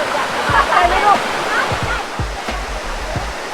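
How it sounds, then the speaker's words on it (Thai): Kinnaree waterfall at Phu Langka in Bueng Kan, Thailand, pours in a steady broadband rush of falling water, close and continuous, with some low thumps and a voice speaking briefly over it. "นี่ครับคือภาพบรรยากาศของน้ำตกกินิลีนะครับ"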